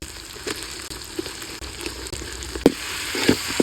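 Chicken sizzles in a pan of onion, tomato and ginger garlic paste for a spicy gravy. The steady close frying hiss carries a few sharper pops and stirring scrapes toward the end.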